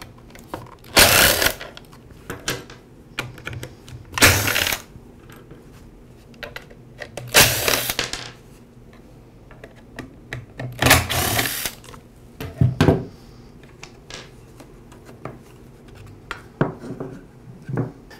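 A Ryobi string trimmer's rear plastic cover is taken off, giving a series of loud clacks and plastic rattles with quieter handling noises between them.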